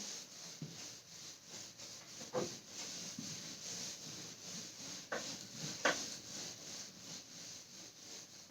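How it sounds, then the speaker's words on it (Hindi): Writing is being rubbed off a classroom board with a steady, faint scrubbing hiss, broken by a few soft knocks as the duster presses against the surface. "तो मैं इसको रब कर रही हूं।"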